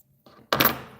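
A sharp scissor snip trims the flared butts of tying material on a fly at a fly-tying bench, one crisp close cut after a faint rustle, decaying quickly.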